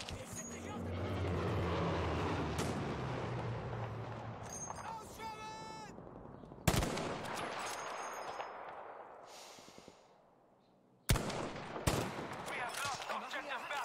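Gunfire in the video game Battlefield V: a few sharp, loud shots and short bursts cut through a rumbling battle background, with a voice talking at times.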